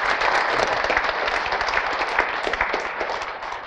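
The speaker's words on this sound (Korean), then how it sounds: "여러분 스스로를 위해서 박수 한번 치도록 하겠습니다." An audience applauds steadily at a Korean business presentation for eco-friendly products, a dense and even sound of many hands clapping throughout, with no voices heard over it.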